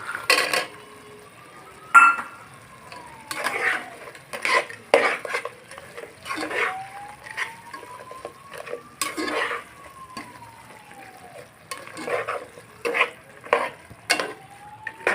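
Banana flower curry with fried fritters is stirred in a pot, producing repeated scraping and clanking strokes of a spoon against metal in an irregular rhythm, with a faint sizzle between strokes.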